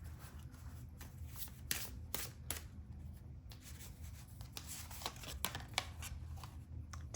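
Tarot cards being shuffled by hand, soft papery riffles and slides with repeated crisp flicks, quiet and close, continuing steadily without speech.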